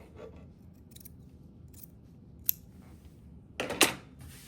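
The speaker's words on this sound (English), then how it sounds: "you can see how good the scissors work. They work just as good. So just trim that off." Soft background hush with a couple of faint clicks, then a short crisp snip of scissors trimming quilting fabric near the end.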